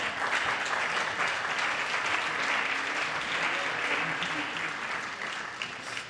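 A large audience at a public talk applauds in a sustained, dense wash of clapping that holds steady for several seconds before tapering off slightly at the end.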